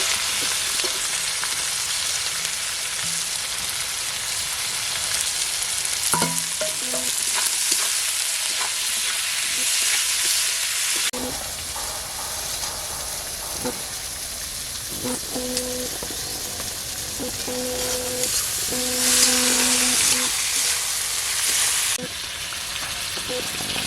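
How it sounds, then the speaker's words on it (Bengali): Onions fry in a pan with cardamom, cinnamon, bay leaf and dried red chillies for mutton curry, a loud continuous close sizzle with occasional stirring scrapes and brief tonal kitchen sounds. "পেঁয়াজ ভাজা ভাজা হয়ে গেছে"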